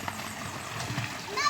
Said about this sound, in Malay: Tengok budak-budak duk main tu